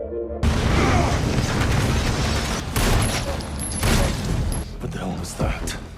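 A loud blast near a headquarters in a film, a sudden boom followed by a long rumbling roar with further bursts and crackling debris.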